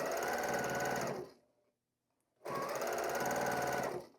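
A sewing machine stitches quilt seams in two steady mechanical runs, each about a second long, separated by a short pause, close and clear with no talking.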